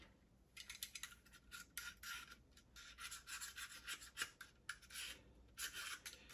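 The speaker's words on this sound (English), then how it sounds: "There's a little bit of gasket stuck right here. Scrape that off." Old gasket material is scraped off an engine case with a hand tool: a run of quiet, rasping strokes in an uneven rhythm, close up and with no talking.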